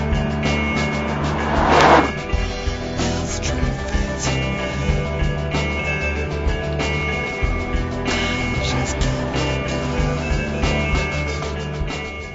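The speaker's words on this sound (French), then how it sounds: "La seule sonorité vient de l'échappement avec un son un peu plus rauque qu'une Cayenne plus modeste" A Porsche Cayenne Turbo S drives along, its engine a steady, fairly loud drone with a raspy exhaust note that swells briefly near the start.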